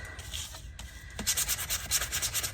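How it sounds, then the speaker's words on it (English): Steady back-and-forth rubbing of a sanding block on card, a rhythmic scratchy swishing up close, growing firmer and faster after a brief pause. "I'm going to take my sanding block and I'm just going to rough up my card"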